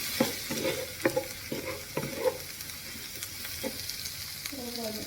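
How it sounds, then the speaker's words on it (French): Ingredients for mini pizzas sautéing in a pan, a faint steady sizzle with repeated scraping taps of a utensil stirring, close by and without talk. "je vais les faire revenir"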